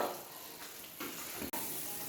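Salted water boiling in a pan for vermicelli, a steady rushing bubble with a brief clatter partway through, and no talking.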